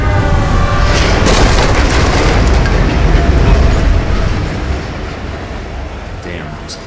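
A train rushing past in a video game: a loud, continuous roaring rumble with clattering that holds steady and then slowly eases off toward the end.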